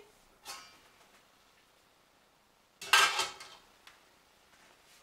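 A lid is lifted off a pot of cooking vegetables being prepared with meatballs, making a faint clink and then a louder clatter of metal lid against the pot rim, heard close with no talk.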